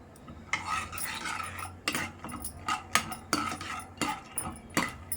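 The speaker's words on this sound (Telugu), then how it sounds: "ఇప్పుడు పల్లీలు వేసాను, పల్లీలు కొంచెం వేయిద్దాము" Peanuts fry in a pan for lemon rice while a spoon scrapes and stirs them in repeated strokes, each stroke a bright rasping rustle over a low background sizzle.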